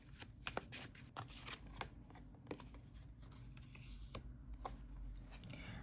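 A tarot card is handled and drawn from the deck, giving faint, close papery riffles and soft flicks in a quiet room.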